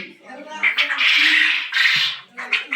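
Farm-raised quail, including white birds, give short, harsh squawking calls in close bursts, with a voice speaking between them.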